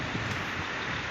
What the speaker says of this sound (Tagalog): at saka sobrang lakas ng hangin at saka sobrang lamig ng hangin